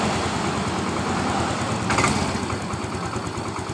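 A Yamaha Mio scooter engine idles steadily after a kick start, a continuous close, even running hum with a brief louder swell midway and no talk.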